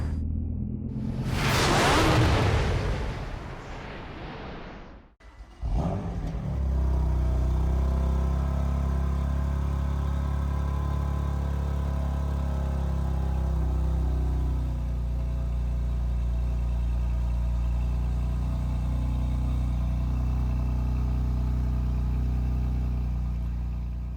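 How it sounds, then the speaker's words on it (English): A BMW M2 Competition with the S55 engine fires up from cold: a loud roar flares over the first few seconds, cuts out briefly near five seconds, then settles into a steady, rumbling high idle that holds for the rest of the clip. "that right there was the cold start of the S55 powered M2 competition"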